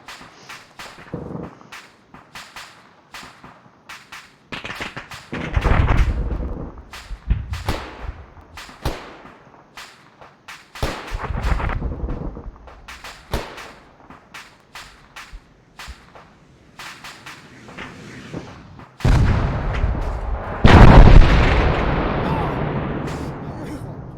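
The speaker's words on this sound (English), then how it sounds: "missiles away on T-72. Watch it blow up." Missile striking a T-72 tank in the Arma 3 military game, heard as a string of sharp cracks and booms capped by a loud, sustained blast near the end, with voices talking in between.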